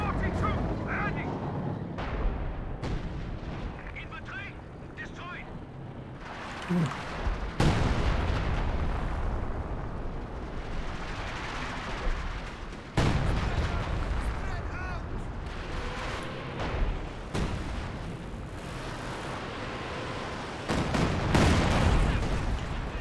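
Panzerwerfer rocket artillery barrage in Company of Heroes 2, with deep booming impacts and rumbling blasts rolling one after another, some heavy hits standing out, under steady talk from a commentator.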